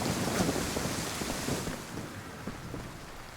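Rain in the DayZ video game, a broad, rushing wash of falling water with a gusty, wind-like roar, fairly loud and continuous, easing slightly toward the end, with no talk over it.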